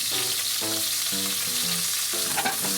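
Japanese long green onions frying in a pan for a pork-and-onion stir-fry, giving a steady, close hiss of sizzling that runs throughout, with a tonal melody playing over it.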